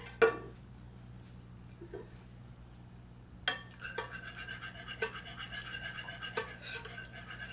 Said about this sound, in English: And we're going to continue to whisk that till it thickens up.